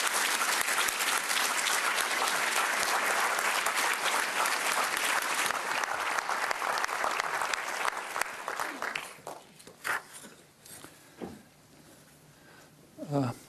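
Audience applause welcoming Noam Chomsky at an MIT talk, a dense sustained roar of clapping that thins out after about nine seconds into scattered claps and a faint hum.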